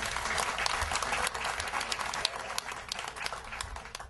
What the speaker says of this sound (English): folks, let's hear it one more time for Pete Hamilton.